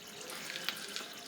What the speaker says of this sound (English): it just drains out the water tank